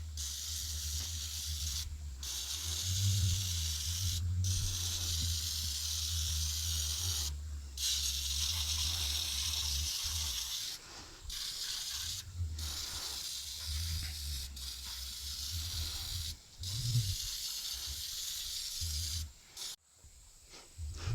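Cleaner sprayed onto a homebuilt reverse trike engine in repeated hissing bursts, close and fairly loud, with short pauses between sprays over a low rumble.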